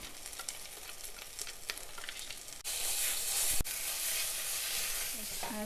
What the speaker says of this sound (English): Now let's add the chili powder, garam masala and turmeric powder. Fry this for 1 minute on low flame.